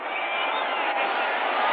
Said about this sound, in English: It will be a noisy crowd.